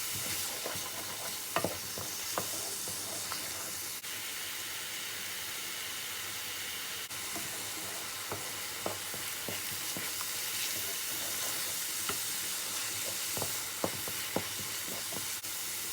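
Tomato mixture for chickpea curry (chole) stirred and cooked in a pan, a constant hissing sizzle with scattered sharp spatula scrapes and taps throughout, no voices.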